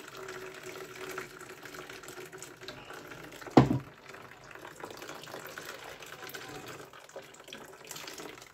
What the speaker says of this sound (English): Into my bowl right here, some lovely coconut milk.